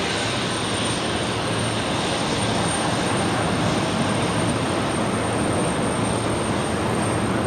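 A freighter aircraft at Brisbane Airport at night, its engines giving a steady broad roar that holds loud and unbroken throughout, with no voices over it.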